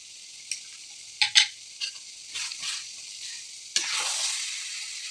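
Sundakkai (turkey berry) pickle fries in hot oil in a pan, giving a steady close sizzle broken by several sharp scrapes and clacks of a spoon stirring.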